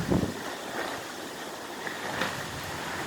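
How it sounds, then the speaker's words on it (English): Strong swirling wind in Eugene ahead of an approaching rain storm, fanning a nearby wildfire: a steady, loud outdoor roar with buffeting gusts against the microphone, continuous throughout and with no speech. "It's like swirly wind now."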